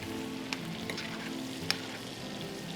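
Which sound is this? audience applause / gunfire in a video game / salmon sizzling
salmon sizzling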